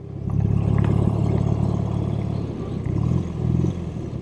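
An air-cooled BMW R75/5 motorcycle with a flat-twin engine runs at a steady, smooth low rumble, close and continuous, with a brief rise near the end.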